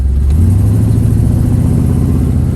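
A 1968 Chevrolet Camaro with a Turbo 350 automatic transmission pulls steadily and loud, heard from inside, a low droning rumble that climbs slightly in pitch as it accelerates.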